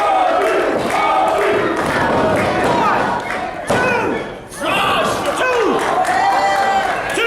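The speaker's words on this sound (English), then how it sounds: "This crowd egging him on." A packed crowd at a TWF wrestling show roars and shouts encouragement at a wrestler, loud and sustained with a brief dip midway, a few thuds, and commentary talk over the noise.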